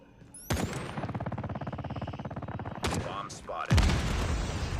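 In a bomb-defusal match of a shooter video game, a grenade is thrown, then rapid automatic gunfire rattles steadily for a few seconds, followed by sharp blasts and more bursts of fire.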